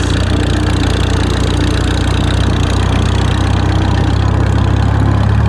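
A 1954 Farmall 300 tractor of about 40 horsepower, pulling two drags up a hill, gives a steady, loud, close engine drone with an even low throb throughout.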